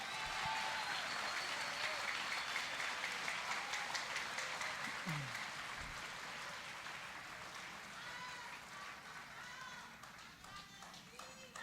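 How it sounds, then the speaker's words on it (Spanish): A church congregation applauds during a Sunday sermon, sustained dense clapping from a large crowd with voices calling out over it, gradually easing off. "Todo el que entienda lo que yo estoy diciendo, denle un aplauso al Señor."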